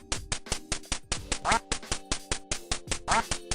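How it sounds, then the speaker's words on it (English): Ducks from the NES game Duck Hunt quack rapidly and repeatedly at its ending, a steady run of close, loud, nasal quacks with no pauses. "When you reach level 99 and complete the game, you go back to level 0 and see a duck rain."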